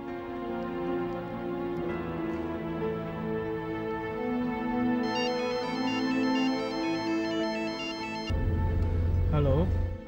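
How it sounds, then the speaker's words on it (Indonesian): A telephone ringtone plays a steady repeating electronic melody for most of the clip, with a brighter chiming pattern joining partway through, before the sound cuts off into a low hum. "Mbak Gita, aku pinjam mau telepon Papa."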